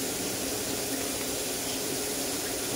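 Water pours into a cooking pan while making mee goreng, a steady broadband rushing hiss running unbroken and fairly loud from start to finish.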